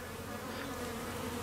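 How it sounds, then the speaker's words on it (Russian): Bees buzz among blooming bell-shaped flowers, a dense continuous drone of many insects filling the air close by, with no voices over it. "Колокольчики или как кувшинчики пчелам. Летают, собирают."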